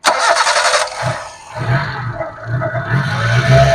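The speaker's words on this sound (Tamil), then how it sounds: "நம்ம வண்டியோட இன்ஜின் கண்டிஷன் பாத்துக்குங்க எப்படி இருக்குன்னு" A Maruti Esteem LXi four-cylinder petrol-and-LPG engine cranks briefly, then catches and settles into a steady, close idle.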